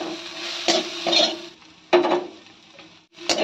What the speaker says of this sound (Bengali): একটু নেড়ে চেড়ে এবার নামিয়ে নেব